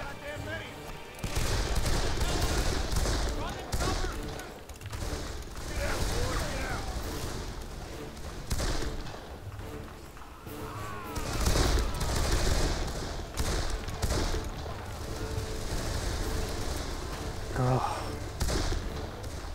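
Video game Darkest of Days battle gunfire: repeated bursts of shots and thumps over a noisy soundscape, with a voice speaking at times among the blasts.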